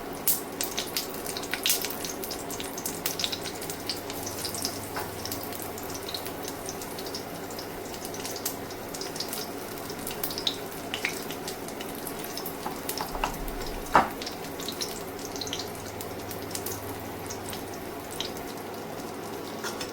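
Stuffed brinjal slices fry in hot oil in a pan, giving a steady, even hiss and crackle with scattered pops that runs throughout without any talking.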